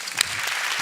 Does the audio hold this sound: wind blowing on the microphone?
no